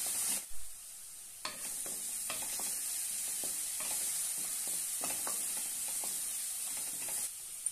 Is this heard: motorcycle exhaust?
no